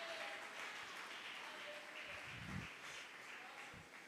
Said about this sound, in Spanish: Alguien dele palmas al Señor en esta mañana.